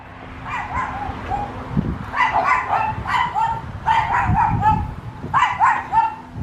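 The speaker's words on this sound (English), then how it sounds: "there's a little yapping dog that keeps yap yap yap" A small dog yaps in a garden, sending out quick clusters of high, sharp barks in repeated bursts at a moderate distance, with no talking.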